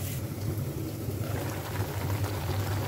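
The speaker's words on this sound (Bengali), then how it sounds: "এই তো আমি শাকটা ভাজি করি, এইটা লাল হয়ে আসলে আমি শাকটা দিয়ে নাড়াচাড়া করে নামিয়ে ফেলবো।" Leafy greens sizzle with dried chillies in hot oil in a pan, a steady close crackling hiss with no talk.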